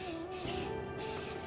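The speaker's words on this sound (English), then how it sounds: "It's just kind of annoying spraying from a can" Aerosol spray paint hissing from a can as a second coat goes on parts of a turbo Lexus IS300, a steady close spray across most of the moment with a short dip midway.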